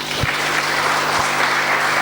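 A church congregation applauds, giving a steady wash of many hands clapping together, loud and continuous through the short stretch.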